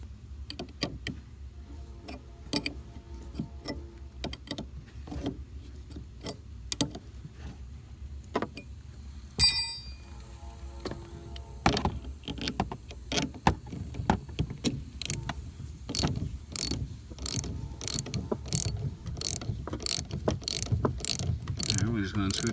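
A ratchet wrench loosens the rear shock absorber bolts on a 2006 Scion xB, starting with sporadic metallic clicks and building to a steady, rapid ratcheting rhythm close by.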